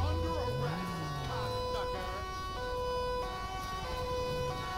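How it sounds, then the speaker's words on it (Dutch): A police car siren in GTA 5 with the LSPDFR mod, a loud wavering electronic wail that holds throughout over a steady engine and road rumble. "Ik zet mijn sirene even uit"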